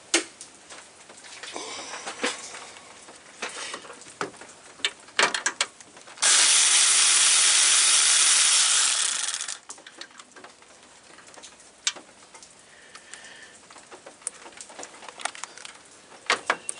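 A ratchet with a deep 10 mm socket works on the radiator bracket of a 2015 RAM 1500 with the 5.7L engine, giving sparse close clicks with a brief burst of harsh noise midway.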